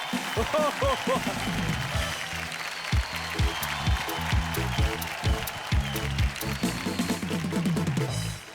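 Studio audience on a Hindi TV game show claps through a stretch where music and voices play loudly on top, the applause forming a continuous bed beneath.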